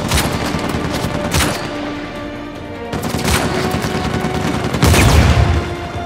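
Gunfire in Uncharted 4 on PS4 Pro, several loud sharp shots in irregular bursts with a heavy boom near the end, close and dominant with no talking over it.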